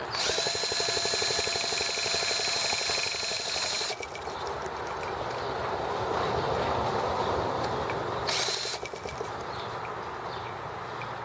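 A T26 engine runs with its throttle set high, a loud steady mechanical roar with a rapid whining, buzzing texture that shifts in pitch and character a couple of times, close and continuous throughout.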